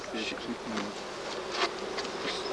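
Honeybees buzzing around a hive, a dense, steady drone of many insects with small swells in intensity, fairly soft and close, with no talking.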